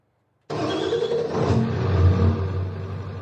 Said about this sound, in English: Yeah, you can hear that truck for daggone sure.